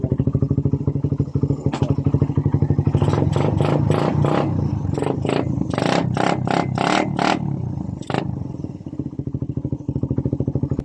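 A small 110–150 cc underbone motorcycle engine, running after a battery-drive four-pin CDI conversion, idles with a steady close putter, then gets several sharp revs in quick bursts before settling back to idle.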